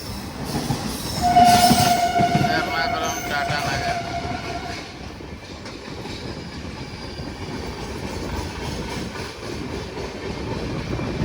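Puri–Tirupati Express pulling out of Samalkot Junction: a steady, loud rumble of wheels and carriages with a long horn-like tone early on, continuing as a constant rolling noise.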